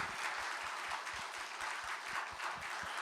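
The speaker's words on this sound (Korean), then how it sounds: "우리 그분을 위해서 한번 환영의 박수 한번 보내주시죠." A church audience applauds to welcome a guest, a steady patter of many hands clapping at moderate distance for a few seconds, fairly soft and without talk.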